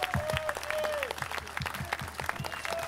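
Scattered audience applause greets people called up onto a stage, individual claps close and uneven, with some faint murmuring underneath.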